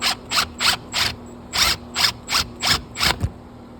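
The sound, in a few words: 1-inch drill puncturing through the wall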